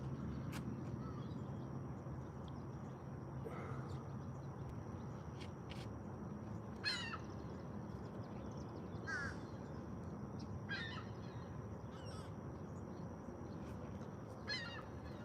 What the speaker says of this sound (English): I don't know if you can hear the sound of the gulls.